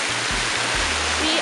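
A stream at a Disney Aulani resort rushes steadily with a loud, broad wash of flowing water, while a low hum pulses underneath.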